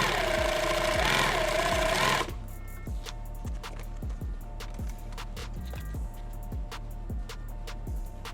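A sewing machine stitches an ankle medical kit with a rapid, regular mechanical pulse of thumping needle strokes, loud and close. A louder whining burst opens the sound before the machine settles into its steady rhythm.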